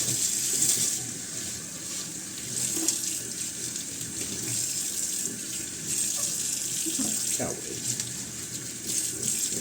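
Tap water rushes steadily and close while soap is rinsed off instrument strings, a continuous splashing flow with small shifts as the strings move under the stream.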